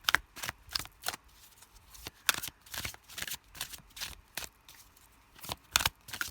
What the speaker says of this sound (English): Use my tarot cards.